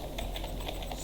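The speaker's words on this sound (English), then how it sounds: "we'll just gonna type password" A password is typed on a computer keyboard during network device configuration, producing a quick run of soft, close key clicks over a faint steady background hum.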